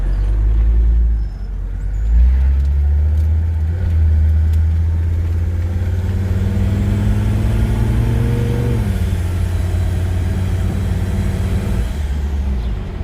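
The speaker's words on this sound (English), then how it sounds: "Turbo sounds pretty good with no filter on it." A Mercedes-Benz 300TD W123 turbodiesel runs on the road with no air filter, its loud engine drone and turbo rising in pitch as it accelerates, then dropping off before holding steady.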